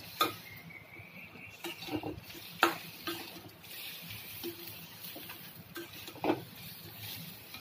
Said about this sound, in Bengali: এটা নাড়াতে থাকবো।